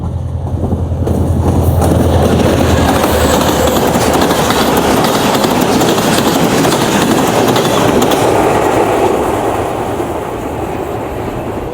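An express train runs through Jungshahi railway station without stopping, a loud, close, sustained roar of wheels and carriages with rhythmic clickety-clack that holds for the whole passage and eases slightly toward the end.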